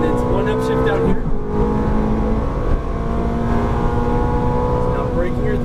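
Ferrari F430 engine pulling hard on a race track as the throttle opens out of a turn, a loud, close, sustained roar with a dense tonal drone, while someone speaks over it.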